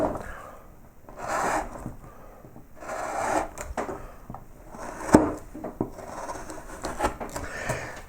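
A carving tool makes slicing cuts into wood while shaping a three-scroll cartouche, giving a series of close, soft scraping and shaving strokes in irregular bursts with no talking.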